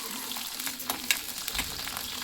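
Green chillies and a medium onion sizzle in hot oil in a pan for a gongura pachadi, a steady crackling fry with soft stirring scrapes, close and continuous with no talk.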